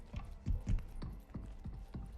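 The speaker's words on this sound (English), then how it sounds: "Oh, he's stomping, I can hear him." Heavy robot footsteps in a space-survival video game, a steady series of deep thudding stomps, about three per second, moderately loud with mechanical clanking.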